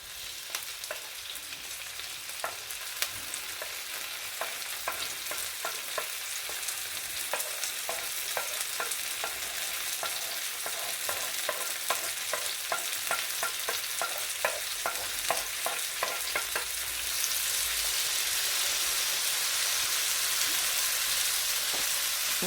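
Sliced peppers and onions frying in a pan with a steady dense sizzle and scattered crackles, stirred now and then, growing slightly louder and brighter toward the end.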